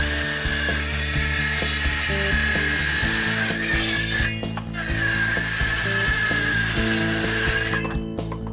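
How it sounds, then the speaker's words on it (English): A power saw with a clamped guide slices through a 2x4 during a bench build from an old bed frame, its loud continuous mechanical whine and grinding running steadily for the whole stretch with brief dips. "line up the saw, make sure the guide is pressed firmly against and you're nicely clamped"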